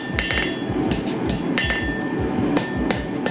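Steel being hammered on an anvil while forging the conical socket of a crossbow bolt, rapid ringing metallic blows with bright clinks, loud and close, no talk.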